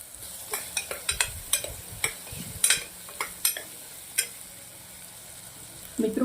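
Capsicum and onion sautéing in a pan for Korean masala pulao, with a steady low sizzle broken by repeated sharp clinks and scrapes of a spoon stirring against the pan, close and fairly quiet, no voices.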